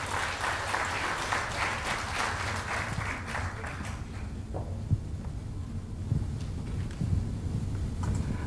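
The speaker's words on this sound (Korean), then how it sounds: "큰 박수로 환영해 주시기 바랍니다." A large audience at a Yongin mayoral candidates' social welfare policy forum applauds a speaker, dense sustained clapping that thins out into scattered claps and room murmur over a low hum.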